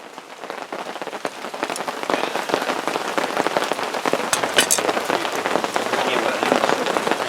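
Steady rain falling in the woods, a dense, continuous patter of drops on leaves and surfaces, close and fairly loud throughout.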